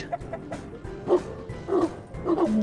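A mother dog with her puppies gives a series of short barks and yips, a few separate bursts spaced about half a second apart, fairly close and moderately loud.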